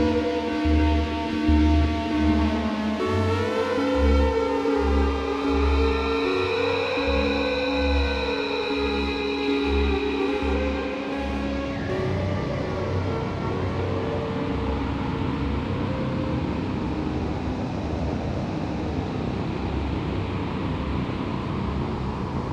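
Final master of an electronic track: loud, layered synth tones with pulsing low bass that shift and sweep, then open into a denser, noisier wash for the second half.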